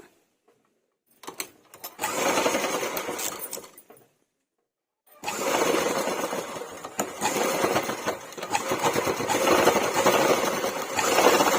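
A sewing machine stitches a handmade purse made from waste materials, running in a loud continuous whir for about two seconds, pausing in silence, then running again for a longer steady stretch.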